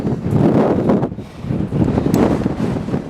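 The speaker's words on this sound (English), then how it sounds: "It is windy as heck." Strong gusting wind on a steep mountainside at Lassen Park buffets the microphone with loud, continuous rushing noise that dips briefly and surges again.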